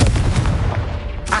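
A Confringo blasting spell going off in Hogwarts Legacy, a booming explosive burst followed by a rumbling, gunfire-like crackle that stays loud through the moment, with no voices over it.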